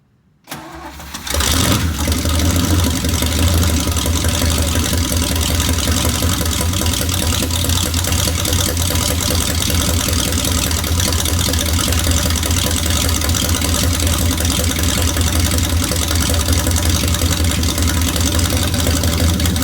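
A 1963 Oldsmobile Jetfire engine, started for the first time in 30 years, catches after a brief crank and settles into a loud, steady, rough idle that runs on without a break.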